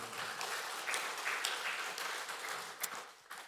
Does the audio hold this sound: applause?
yes